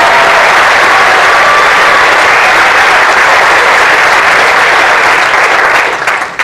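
Loud, steady applause from a large crowd at a high school fall sports awards ceremony fills the whole stretch, then starts thinning out near the end.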